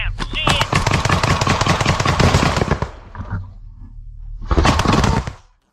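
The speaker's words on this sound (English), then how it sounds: "it exploded like a regular grenade" A hand grenade goes off with a loud, dense burst of blast noise and crackle lasting nearly three seconds, fading briefly before a second strong burst swells and cuts off, with shouting voices mixed in amid combat.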